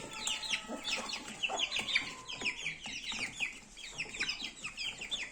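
A hen with her chicks, clucking repeatedly nearby in a busy, uneven chatter mixed with high chick peeps.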